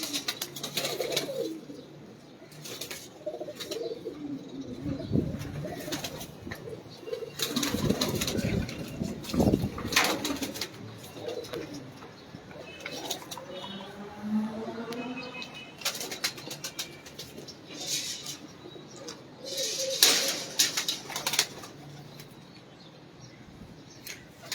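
Pigeons in a keeper's loft coo and rustle at close range, with scattered wing flaps and shuffling bursts over a quiet background, and a little talk in between.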